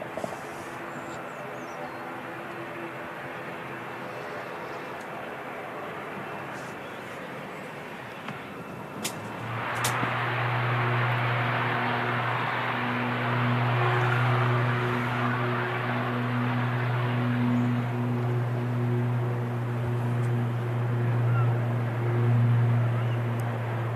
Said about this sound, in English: Something on approach as well. Yeah, that's our Embraer